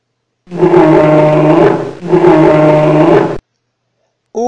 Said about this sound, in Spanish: Urso.